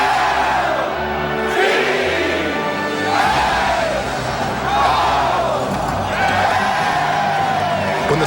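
A large stadium crowd at Memorial Stadium in Baltimore roars and cheers during a farewell ceremony for the old football ground, loud sustained whoops and shouts swelling in waves.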